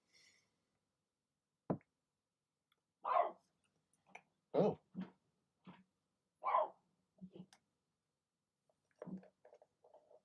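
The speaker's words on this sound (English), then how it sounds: "So yeah, that's a dog." A dog gives a series of short, separate barks and yelps spaced across several seconds, fairly close and moderately loud, with brief quiet gaps between them and a single word spoken near the start.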